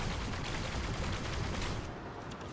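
Rapid, continuous gunfire from a No Man's Sky weapon fills the scene loudly and densely, a sustained stream of shots with no talk over it.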